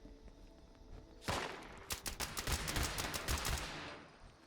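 Enemy gunfire in a video game: a burst of sharp, rapid shots after a quiet start, then a run of repeated loud cracks with a steady rattling rhythm, close and dominant with no talk.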